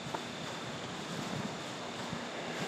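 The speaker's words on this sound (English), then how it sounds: "It's a windy day." Wind buffeting the microphone on a hike through the Alafia River Corridor Nature Preserve, a steady low rushing roar with no voices.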